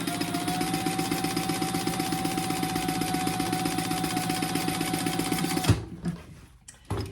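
A sewing machine stitches a test seam on a simple tote bag with Tech 45 thread, a steady close rapid chatter for several seconds before stopping abruptly, followed by faint handling noises.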